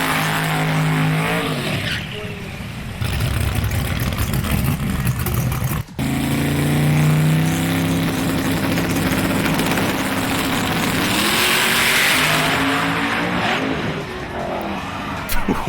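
A loud, constant roar of racing engines and squealing tires from an SRB2Kart kart-racing game, the revving pitch sliding up and down throughout, with a momentary dropout near the middle and talk mixed underneath.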